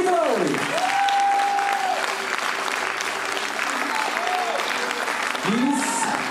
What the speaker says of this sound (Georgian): ისეთი ტაში დავუკრათ, რომ გაიგოს იქ